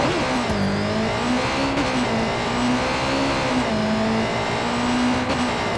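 A motorcycle engine in Watch Dogs 2 on PS4 revs loud and continuous, its pitch rising and falling as it speeds along.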